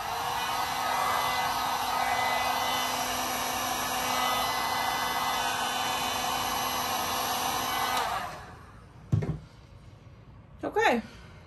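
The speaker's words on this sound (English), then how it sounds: "I'm just gonna hit them with the heat gun real quick" A heat gun blows steadily on glittery resin tumblers, a loud continuous whooshing roar for about eight seconds before it cuts off, followed by a couple of faint bumps and handling noises.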